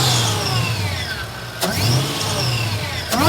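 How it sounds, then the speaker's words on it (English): A Mercedes E55 AMG fitted with a custom intake filter blips its engine twice from a warm idle, each short rev rising sharply and falling back to a steady rumble, heard close. "Now we're going to give it a couple revs and see what it sounds like."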